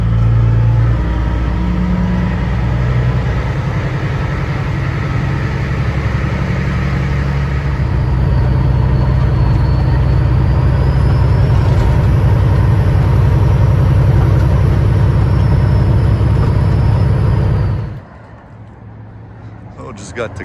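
A truck pulls out onto the highway, its heavy engine droning loud and close with gradual rising revs, then cutting off abruptly near the end.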